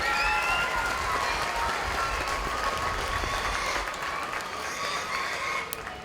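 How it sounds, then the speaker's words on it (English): Sustained applause from a large crowd at a 4-H and FFA market hog show at the Lawrence County Fair, Ohio, dense and steady, tapering a little toward the end with a few scattered voices and cheers. "give a round of applause for all the exhibitors today"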